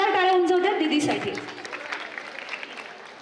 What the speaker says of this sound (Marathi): एकदा जोरदार टाळ्या उंचवतात दीदीसाठी.